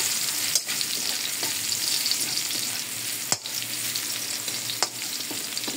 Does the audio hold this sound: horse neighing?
no